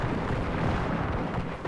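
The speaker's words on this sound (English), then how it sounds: "Cannon shot tearing through the lines." Cannon fire booms across a 30 Years' War battle at the River Lech in a strategy game. It comes as a loud, dense, continuous roar of blasts with no voices over it.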